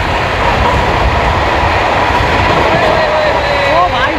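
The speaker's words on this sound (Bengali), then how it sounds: "Duronto express skipping Durgapur." A Duronto Express train runs on the Howrah–New Delhi line, a loud continuous rail rumble with clattering wheels and thin wheel squeals rising near the end.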